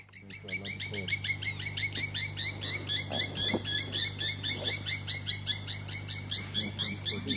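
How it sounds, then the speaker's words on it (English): A blacksmith plover gives sharp, repeated metallic alarm calls in a fast steady rhythm, fairly close, while circling overhead, over a constant low engine hum. "you'll hear the alarm call of the bird as it circles overhead"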